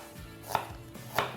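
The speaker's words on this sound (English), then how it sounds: "I'll slice the onion." A knife slices through an onion on a cutting board while preparing a roasted beetroot and watercress salad: two crisp, close chopping strokes about half a second apart.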